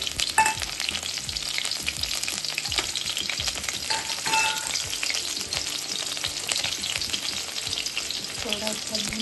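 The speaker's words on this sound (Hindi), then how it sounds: "साथ में लहसुन मिर्च का तड़का" Garlic and chili tempering, with panch phoron spice added, sizzles and crackles loudly in hot oil, with occasional stirring clinks of a utensil against the pan and no talking.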